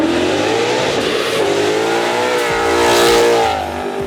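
Ford Mustang fitted with long tube headers, an X-pipe and a high-flow catback exhaust, revving loud and close, its throaty engine note climbing and holding high before easing back down.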